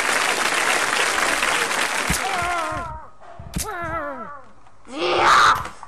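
Applause sound effect in the Happy Wheels video game: a loud burst of clapping and cheering, first under overlapping game noises and wailing voices, then returning briefly near the end.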